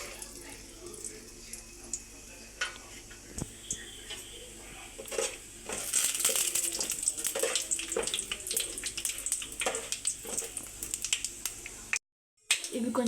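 Whole biryani spices sizzle and crackle in hot ghee in a pan on the stove, a steady bright frying hiss with scattered pops and a few utensil clinks, close and moderately loud, ending in a brief cutoff.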